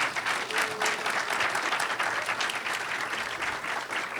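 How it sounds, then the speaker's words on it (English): An audience gives a round of applause for the panelists at a Jurassic Park panel discussion: sustained, even clapping from a full room with no talking over it. "So can we give a round of applause for our panelists?"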